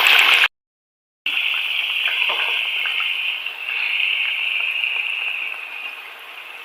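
Potato chips dropped a few at a time into hot oil for a crispy chips recipe, giving a steady bright sizzle and bubbling that cuts out briefly near the start, then continues evenly with no talk.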